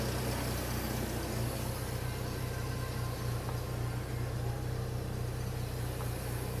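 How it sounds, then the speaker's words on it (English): A Jeep TJ engine idles steadily, a low continuous rumble with an even throb, heard close and alone under faint broadband hiss. "Seems to be running at a decent idle."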